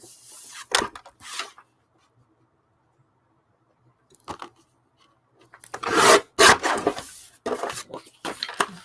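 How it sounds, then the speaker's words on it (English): Paper edges are trimmed by hand in short rasping cuts. A pair comes first, then a pause and a single cut, then a louder cluster of scrapes near the close. "So I'll just trim those by hand."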